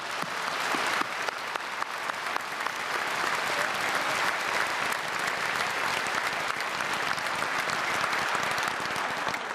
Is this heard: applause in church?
yes